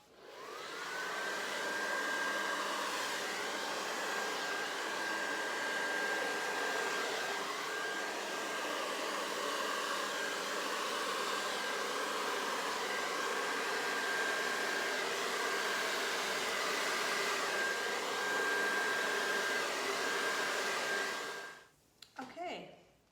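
A hair dryer blows steadily on acrylic pour paint in Prussian blue and white for about twenty seconds, a loud continuous whoosh with a faint high whine, before it cuts off with brief handling noise.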